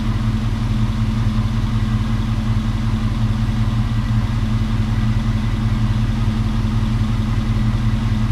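A Dodge Dakota engine runs after a bad oil leak, a loud, steady idle with an even low rumble that holds the whole time, with no talking.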